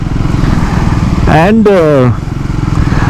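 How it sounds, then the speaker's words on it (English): Kawasaki Versys 650 motorcycle engine running steadily while riding, a loud continuous rumble throughout with a brief spoken word over it midway. "lovely engine sound"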